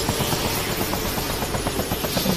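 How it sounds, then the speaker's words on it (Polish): Helicopter rotor noise from the military video game Arma 2 as the aircraft slides along the ground, a loud, steady rhythmic chopping drone with a constant high whine. "Helikopter się zsuwa."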